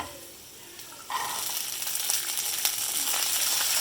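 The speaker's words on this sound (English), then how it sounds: "Added in some 2 diced chilies and a little 1 inch ginger. So we'll have to saute these." Diced chilies and 1 inch of ginger hitting hot oil in a pan, bursting into a loud, steady hissing sizzle with occasional crackles after a quiet start.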